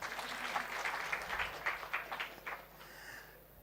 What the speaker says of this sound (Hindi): ताली बजाओ इनके लिए।